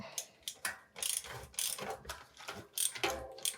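A hand ratchet turns a lockring tool on an SRAM PG-1230 bicycle cassette fitted to a WTB wheel's HG driver, giving close, crisp bursts of rapid clicking in quick repeated strokes, with no voices.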